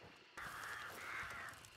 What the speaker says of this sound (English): Somebody over there, crows just went off.